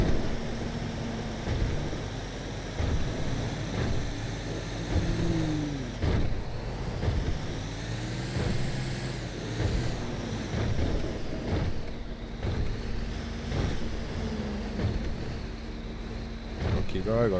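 Rumbling truck engine driving along a road in GTA 5, a continuous low drone with shifting pitch as it revs and slows, heard under intermittent talking.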